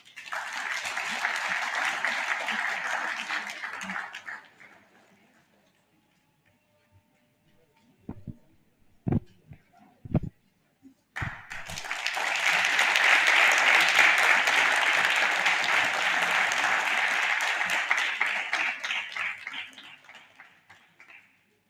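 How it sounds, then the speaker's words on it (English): Audience applause for presidential debaters taking their podiums, two broad bursts of dense clapping separated by a quiet gap with a few sharp isolated taps, each swelling loudly and then fading. "a round of applause for our debaters this afternoon as they take their podium"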